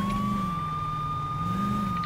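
A police car siren in the video game Saints Row 2 wails steadily and loudly, a sustained wavering tone with no voices over it.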